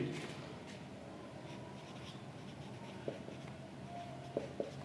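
A pen scratches softly across paper while a bank account debit journal entry is handwritten for a share-issue accounting exercise, with a few faint taps in a quiet room.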